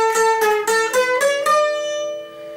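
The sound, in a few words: pasoteado strumming technique on Mixe jarana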